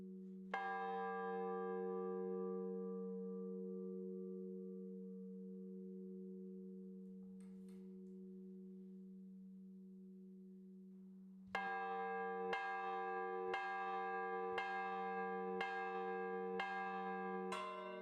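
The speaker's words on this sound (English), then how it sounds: "the bell swings and the clapper stays still, and that's what makes the noise" A large church bell rings once and hums a long time as it fades, then a quicker run of church bell strikes starts up, loud and close with no voices.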